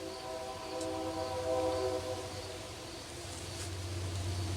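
A train rolls past in the distance, a faint low rumble with a drawn-out horn blast sounding over it.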